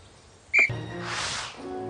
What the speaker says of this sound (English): Ready, Potter? On my whistle